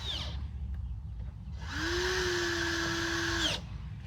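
A power drill or driver runs steadily for about two seconds, tightening screws into the air box housing of a used Walmart engine, with a continuous whine over a low background rumble and no talking.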